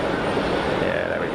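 An Iberia Airbus A320 jet lines up and begins its takeoff roll at Geneva Airport, a loud, steady broadband engine roar filling the air without a break.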